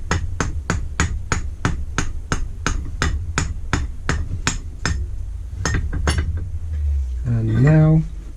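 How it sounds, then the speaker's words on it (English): A rubber mallet taps a piston assembly on a barn-find Lister D engine: a steady run of about fifteen sharp, evenly spaced knocks, a brief pause, two more taps, then a voice right at the end. "Rubber mallet."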